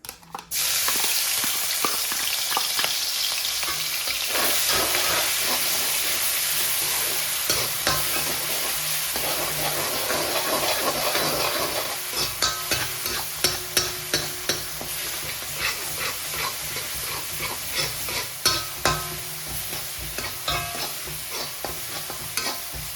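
Crushed ginger, green chilli and garlic fry in hot sunflower oil for a chicken curry, first a sharp burst of sizzle, then steady crackling hiss broken by a run of rhythmic stirring scrapes near the end.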